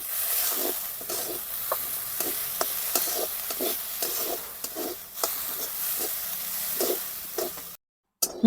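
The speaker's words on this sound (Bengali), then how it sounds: "এবার দিয়ে দিব চিলি ফ্লেক্স একটু ভাজা ভাজা করে নেবো" Mung beans frying lightly with chili flakes in a pan, a soft steady sizzle broken by regular spatula scrapes and taps, close up, ending in a short silence.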